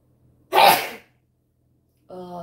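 One loud, close sneeze bursts out and fades within half a second, followed after a short silence by a voice starting to speak.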